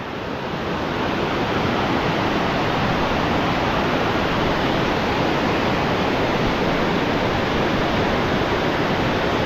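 Rushing water of the Lablabasan River in Gregorio del Pilar, Ilocos Sur, roars in a dense, constant wash, loud and close with no breaks.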